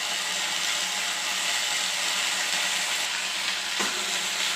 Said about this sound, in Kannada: ಚೆನ್ನಾಗಿ ಎಣ್ಣೆಯಲ್ಲೇ ಇದನ್ನು ಫ್ರೈ ಮಾಡ್ಕೊಬೇಕು.